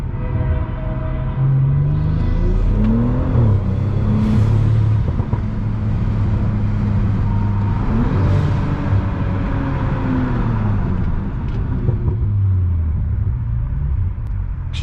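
A 500hp BMW 335i accelerates hard from inside the cabin, its engine note rising through the gears, then a harsh downshift drops and surges the revs in a loud, continuous roar.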